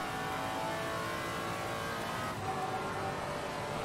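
A Maserati MC GT4 race car in Assetto Corsa Competizione at Zolder holds a steady, droning engine note under sustained throttle, even and fairly faint throughout.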